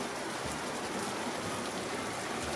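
Heavy rain pours down in a dense, unbroken hiss, steady and close, with no voices.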